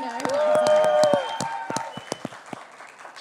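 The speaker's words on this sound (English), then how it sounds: "Round of applause." An audience at a school talent show finale claps in scattered, uneven bursts after a sustained sung or voiced tone fades, the applause thinning out toward the end.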